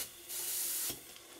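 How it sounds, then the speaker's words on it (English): Steam hisses from the chimney of a Markie model traction engine boiler as pressure rises, a steady soft rush that swells into a louder burst midway before settling back to a quieter hiss. "there's quite a good plume of steam coming out of the chimney now"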